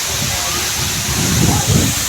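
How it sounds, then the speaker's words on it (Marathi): Waterfall at the Marleshwar pilgrimage site in hill country, a loud, steady close rushing roar of falling water with low rumbling swells and no talk. "धबधब्याचा आवाज हा एकदम जवळ आहे"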